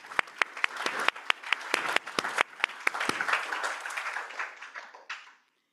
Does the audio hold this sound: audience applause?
yes